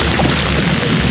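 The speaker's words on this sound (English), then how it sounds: "The rain has arrived." Rain falls steadily at a kayak campsite on the Current River, a dense, loud wash of patter with low wind-like rumble throughout, no voices.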